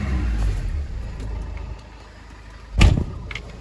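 A cold 2004 Vauxhall Movano 2.5L diesel refrigerated van idles with a low rumble, then gets one sharp, loud rev that quickly dies back down to idle.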